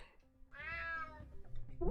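In the video game UnMetal, a cat gives a single drawn-out meow, fairly clear and close, followed by a brief rustling noise.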